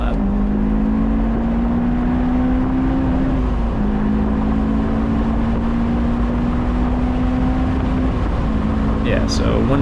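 A supercharged Honda S2000 runs a fast lap on a race track, its engine droning loudly and steadily as it climbs through the revs with one quick shift, while someone talks over it.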